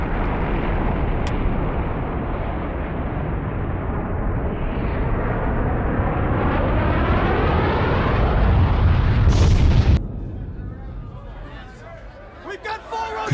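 A nuclear explosion in a disaster movie roars as a loud, sustained, rumbling blast with a rising whoosh, then cuts to quieter scattered crackling and debris sounds.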